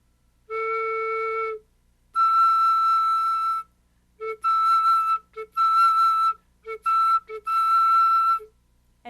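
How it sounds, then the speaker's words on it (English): A flute head joint with its end covered plays alternating high and low whistle-like notes, clean and fairly close, in separate bursts of varying length with short gaps between them. "If we play the high and low notes together with the end of the head joint covered,"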